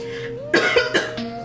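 A woman coughs three times in quick succession at close range, loud sharp bursts over a quiet indoor background with no talking.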